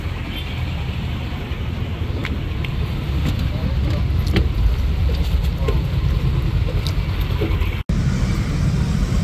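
Riding inside a jeepney bound for Baclaran brings a continuous low engine rumble and road noise, with scattered clatter and a brief sharp knock near the end.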